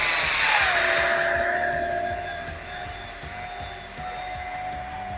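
Machine polisher working compound into black gel coat on a 2018 Regal boat, a steady close whine that settles lower in pitch and continues throughout with a faint rhythmic rumble underneath.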